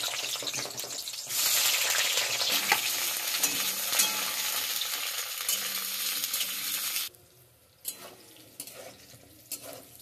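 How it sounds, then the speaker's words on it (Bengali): Eggplant pieces fry in hot oil in a wok, giving a loud, steady sizzle with stirring scrapes that drops off sharply near the end, leaving quieter scattered crackles. No talk. "তেল গরম হয়ে গেছে, আমি প্রথমে বেগুনগুলো একটু ভেজে নেব।"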